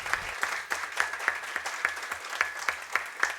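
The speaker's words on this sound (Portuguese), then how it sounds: "Eu não precisei, Elcio, nem pedir gentilmente uma salva de palmas para você" Sparse clapping in a legislative plenary chamber, a handful of individual claps spaced regularly across a few seconds, moderately close and fairly soft, with no one speaking over it.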